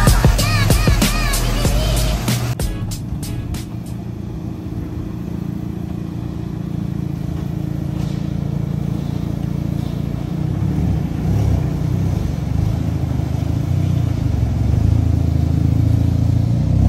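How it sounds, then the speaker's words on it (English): A car interior with a steady low engine drone throughout, a few sharp clicks and chimes at the start, and engine noise rising slightly as it drives. "I'm gonna hop in the car."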